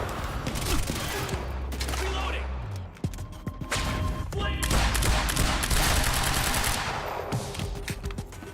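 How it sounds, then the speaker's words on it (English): Automatic weapon fire rattles in dense bursts in the video game Quantum Break, loud and almost continuous, with thuds and a brief pause around the middle. A player talks over the shooting. "His gun was still firing."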